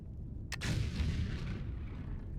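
Explosives detonate in the factory-building game Foundry, a sharp burst followed by a loud, rumbling roar that slowly fades over a couple of seconds.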